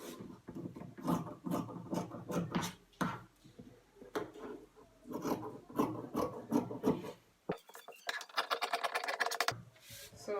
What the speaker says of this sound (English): I want to use this fabric here to just trim it out